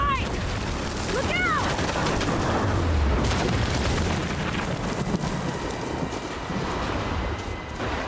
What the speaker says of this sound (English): Wait, wasn't there a storm like this in the other game?